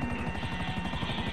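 A helicopter in the video game GTA Online chops steadily with fast, rhythmic rotor beats, a close and continuous whirring drone with no talk.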